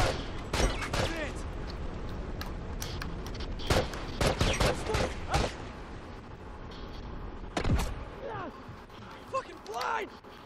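Rifle gunfire in The Last of Us multiplayer game: several sharp shots crack out in irregular bursts, some close and loud, others further off, with voices talking over the exchange.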